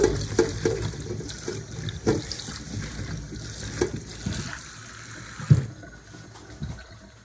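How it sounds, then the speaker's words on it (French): Cold tap water running over cut chayote vegetables in a home kitchen, a continuous splashing stream with irregular clatters and knocks as the pieces are handled, fairly close with no talk. "Voici mes légumes coupés et on va les rincer."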